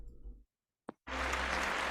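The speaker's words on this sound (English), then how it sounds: "And a round of applause for her." A round of applause from an audience bursts in after a brief pause on a late-night paranormal call-in show, dense and steady, loud and sustained to the end.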